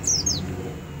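A pet white-eye, a pleci songbird kept at home, gives two quick high chirps near the start of the clip over a low background hum, then falls quiet.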